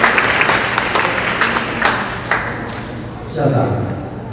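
A school parent-teacher meeting audience gives applause welcoming the parents' association chairman, a steady wash of clapping with a few louder claps, settling as a voice begins near the end.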